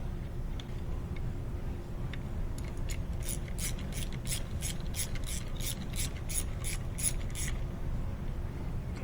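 A hand ratchet fitted with a 5mm Allen bit loosening oil pan bolts on a VW 1.9 TDI, giving a rapid run of crisp metallic clicks over steady background noise.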